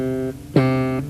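Bass guitar pull-off: a sustained note, then a brief pluck as the fretting finger pulls off and a lower note rings on, clean and close.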